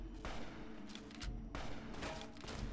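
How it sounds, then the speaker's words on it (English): Bursts of 10mm submachine gun fire in the game Fallout: New Vegas, rapid automatic volleys that come in two or three clusters, fairly quiet against a low background. "What gun is that dude using that is tearing through Boone? It's a 10mm submachine gun."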